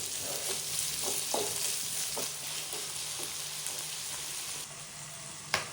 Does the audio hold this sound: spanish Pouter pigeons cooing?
no